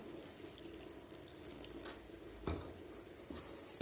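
Water runs from a tap or hose in a home kitchen while bread pakoda batter is being mixed, a faint, steady splashing stream with a few soft clinks.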